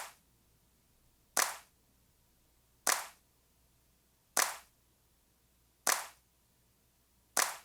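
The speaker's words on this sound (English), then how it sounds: "So we're gonna listen to the claps without compression." Uncompressed 808 claps in Logic Pro X sound as five sharp, evenly spaced hits about one and a half seconds apart, each decaying quickly into near silence.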